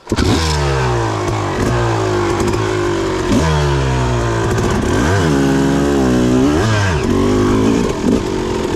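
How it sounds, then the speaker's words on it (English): A two-stroke motorcycle engine fitted with a Lectron PRO Series carburetor revs up and down repeatedly in second gear, loud and close, its pitch sweeping high then dropping back, with a raspy, buzzing tone throughout. "we're listening for funny sounds in the fuel delivery or the bike engine to bobble"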